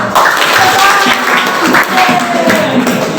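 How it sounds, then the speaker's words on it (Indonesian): Classroom applause during a civics lesson, a short burst of loud, close clapping from students with voices and chatter mixed through it. "Tepuk tangan kita."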